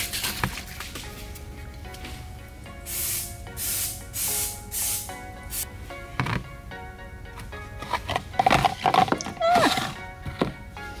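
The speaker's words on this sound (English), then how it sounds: "So I have sprayed both of my bowls." A handheld spray can mists release agent into bowls used as concrete casting molds, giving a series of short, loud hissing bursts with brief pauses between them, amid light handling clatter and knocks.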